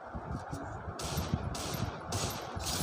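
Shotgun fire in a video game sounds as several sharp, bursting blasts in quick succession over a dense, rumbling game background.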